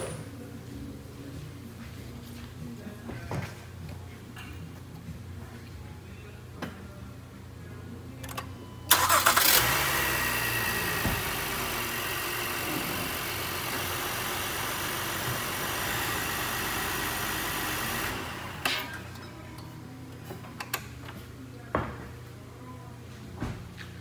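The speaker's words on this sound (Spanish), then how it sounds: "Luego vamos a encender el vehículo para asegurar que no tiene ninguna luz encendida del" A 2016 Honda Pilot engine cranks and catches with a loud start, then settles into a steady idle for several seconds before cutting off, leaving quiet room tone.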